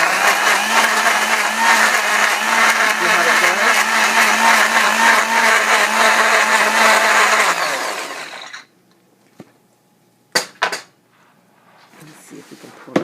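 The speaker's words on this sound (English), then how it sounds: "I put a little in a blender" A blender pulping mulberry fibers whirs loudly and steadily for about eight seconds, then cuts off, followed by a few short clattering knocks in the quiet.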